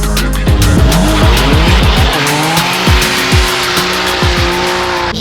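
A 2018 rear-wheel-drive BMW M4 rated at 450 horsepower races an old Moskvich AZLK-2141. Loud engines rev and sweep up and down in pitch between gear changes, and tires squeal and skid repeatedly, close and intense throughout.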